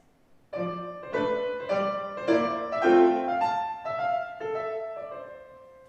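Solo piano plays a short phrase in a long-short dotted rhythm, clear bright notes ringing in a steady uneven lilt.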